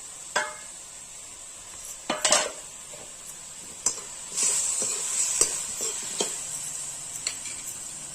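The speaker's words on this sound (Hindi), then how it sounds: "हम इसमें डाल देंगे हरी मिर्च।" Green chillies sizzling in a hot pan while being stirred, a steady bright hiss broken by sharp metallic clinks and scrapes of the spoon against the pan.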